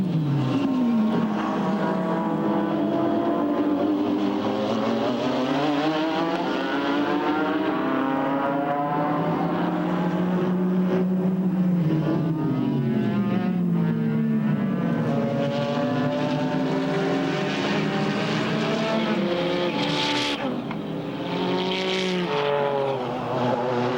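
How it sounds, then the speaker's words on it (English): IMSA GT race cars roar past at the 1992 12 Hours of Sebring, a continuous loud engine howl that swells and shifts pitch as cars pass trackside, with no talk over it. "Let's take a listen to these cars"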